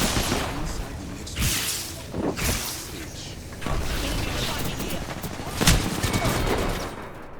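Bursts of rapid gunfire from an Apex Legends match crackle in uneven volleys with occasional heavier booms, mixed under ongoing game noise and a voice talking.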